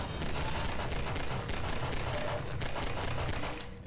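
Gunfire in Half-Life 2, sustained bursts of shooting at moderate loudness over a dense battle din, continuous for a few seconds before tailing off at the end.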